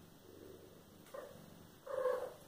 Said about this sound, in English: I hope you can hear her purring.